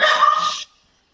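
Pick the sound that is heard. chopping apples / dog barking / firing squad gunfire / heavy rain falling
dog barking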